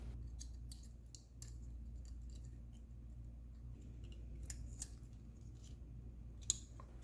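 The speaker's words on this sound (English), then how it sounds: "Just push these pins and remove the plastic piece." Pins are pushed to free a plastic piece from a GameCube controller motherboard, producing faint, sparse small plastic clicks and snaps up close against a quiet background, with one sharper snap near the end.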